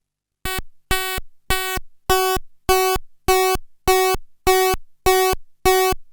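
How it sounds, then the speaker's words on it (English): A buzzy oscillator tone from an AE Modular synth VCO pulses in ten even bursts, its timbre shifting from note to note as the pulse width sweeps under a triangle LFO, loud and alone. "it modulates with the LFO, the triangle LFO, but also the pulse width"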